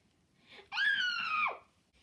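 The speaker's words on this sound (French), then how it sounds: "Mais Léo se met à crier." A single scream from Léo, a Playmobil film character, rings out for just under a second, close and steady in pitch before dropping off abruptly at the end, with only faint room noise around it.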